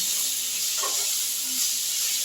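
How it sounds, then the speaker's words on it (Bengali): Ginger garlic paste fries in hot oil for soya chilli, giving a steady, even sizzling hiss throughout with no talking. "দিয়ে এবার আমি একটু মশলাটা ভাজা ভাজা হতে ছেড়ে দিচ্ছি"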